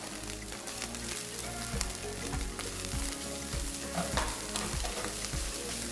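Spices, onion and chicken breast fry in a hot pan with a steady, close sizzle, broken by regular scraping strokes of a spoon stirring the mixture.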